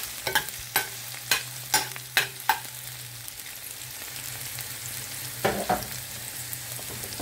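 Onions frying in a pan, with a series of sharp scraping stirs of a utensil against the pan over a steady low sizzle, fairly close and without talk.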